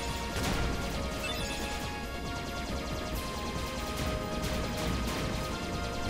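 Gummi Ship blasters firing in Kingdom Hearts, a steady, dense barrage of bright crashing shots with impacts over a continuous roaring engine hum, loud and unbroken throughout with no talking.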